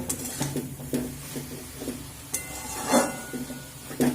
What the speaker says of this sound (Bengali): আবারও নাড়াচাড়া করে কিছু সময় রান্নাটা করে নেব